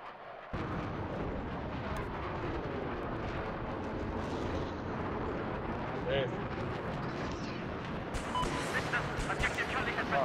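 Gunfire and explosions in the video game Battlefield 4, a dense continuous rumble of shots and blasts with sharper bursts near the end, and a player talking over it.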